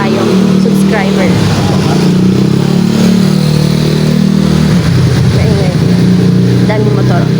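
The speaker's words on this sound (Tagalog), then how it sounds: "Daming motor." Many motorcycles passing on the road outside, making a loud, continuous engine drone and rumble with rising and falling revs as they go by, alongside people talking nearby.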